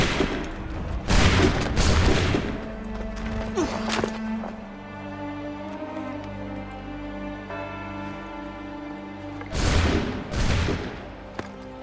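A musket volley fired by a line of soldiers in Assassin's Creed III, loud bursts of gunfire near the start and again near the end, with a musical score sustained in between.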